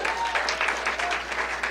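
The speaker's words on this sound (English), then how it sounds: "who's clapping for that?" Crowd at a political rally clapping, a continuous rush of applause that fills the whole moment at strong level, with some voice mixed in underneath.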